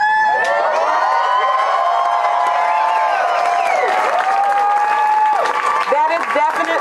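A crowd at a night gathering applauds and cheers, a dense continuous wash of clapping with whoops and shouting voices rising over it, loud and close throughout.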